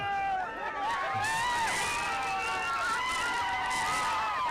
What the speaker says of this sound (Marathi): हा जल्लोष आहे टीम इंडियाच्या विजयाचा